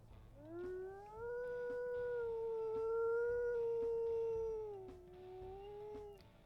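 A female wolf in the video game WolfQuest howls once, a long, clear, sustained tone that rises, holds steady and then dips slightly before fading, heard alone at moderate volume.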